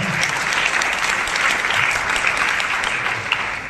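Audience applause at a Vestige business event, dense steady clapping from a crowd, fairly loud and sustained throughout with no speech over it.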